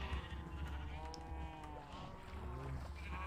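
A sheep bleats in the Minecraft video game, giving a wavering, nasal cry that is heard twice in quick succession at moderate volume. No one speaks.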